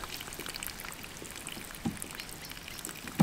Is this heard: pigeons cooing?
no